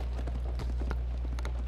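Hooves clip-clop in a quick, rhythmic gallop during a horse chase in For Honor, each footfall crisp and evenly spaced over a constant low game hum, with no one talking.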